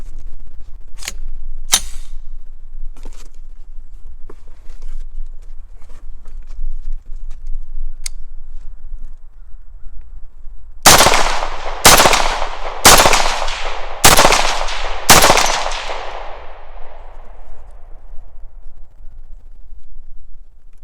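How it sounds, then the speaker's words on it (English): Five sharp .17 HMR rifle shots from a BCA rifle fired into a box, spaced about a second apart and loud and close, each followed by a short ringing tail, after some faint clicks and handling noises. "let me go ahead and fire these 5 rounds into this here box"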